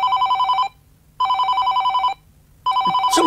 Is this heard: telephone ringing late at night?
yes